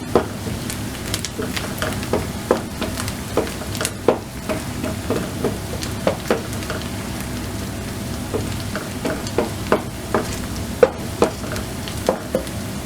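Green chilies go into a frying prawn curry masala, giving a low, constant sizzle broken by regular stirring knocks and scrapes.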